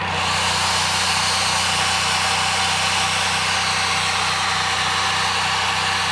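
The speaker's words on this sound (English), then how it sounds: "You can hear it on the engine pulls down just a little bit." A 78-year-old generator engine runs steadily and loudly throughout, its low, even throb pulsing at a regular rhythm over a dense mechanical hum, with no voices.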